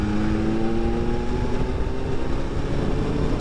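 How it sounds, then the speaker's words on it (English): A 2025 BMW S1000RR straight-four sports bike accelerates in sixth gear from about 3,000 revs, a loud steady engine drone with rising tones under heavy wind rush. "when you're in a higher gear and you just open that throttle up, it's got an incredible amount of drive"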